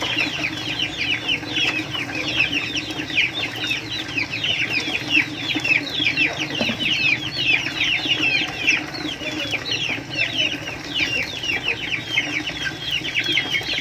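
Chickens on a farm cluck and chatter continuously nearby, a dense overlapping stream of clucks over a low background hum.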